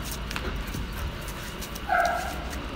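A mischievous puppy in a village gives a short burst of barking and yips near the end, loud against steady outdoor background noise.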